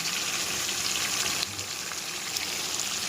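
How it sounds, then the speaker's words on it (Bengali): Water goes into hot oil while aloo dum cooks, giving a loud steady sizzle that drops and shifts abruptly partway through, then continues as a softer bubbling hiss. "চলুন এবার জল ঢেলে দেবো।"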